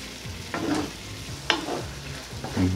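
Tomatoes, onions and garlic cooking together in a pan for a pork stew, a low sizzle broken by a few short scrapes of a spoon stirring.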